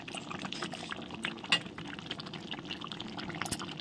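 Water pours into a pot of mutton curry as it cooks, a continuous close splashing fill with a couple of sharper spattering bursts and no voices.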